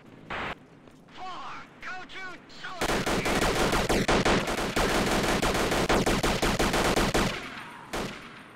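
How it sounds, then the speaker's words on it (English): A few brief spoken bits, then a long loud stretch of rapid, continuous video game gunfire and explosions in the game Commissar Gasmask, cutting off abruptly, followed by a last sharp shot. "Serious gunfire going on out here."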